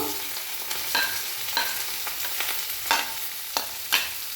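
Chopped onion frying with whole cumin seeds in a pan for spicy ghugni, a steady close sizzle broken by several sharp scraping stirs of a spatula at irregular intervals, with no one talking.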